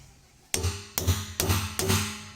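Four heavy metallic hammer blows drive a knife into a 200-liter steel drum at a steady pace, each strike ringing briefly with a hollow, resonant clang.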